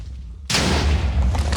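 Explosions in a Minecraft game: after a quiet moment, a sudden loud blast erupts into a sustained roaring rumble of overlapping detonations.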